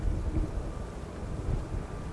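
Wind buffets a camera microphone outdoors beside an old railway line, producing a loud, continuous low rumble with uneven gusty surges and no other clear sound.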